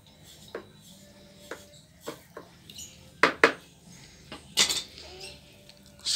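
Resin exchanger being stirred in a container, a series of scattered clinks, scrapes and knocks of the stirrer against the vessel, irregular and close, getting louder and busier partway through.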